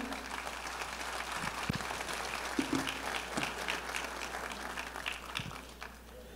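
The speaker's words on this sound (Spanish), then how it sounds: "Vamos a recibirlo con un aplauso" A faint, steady round of audience applause welcomes a speaker at a lay Catholic church assembly panel, with a few sharper claps and thuds standing out against the soft wash.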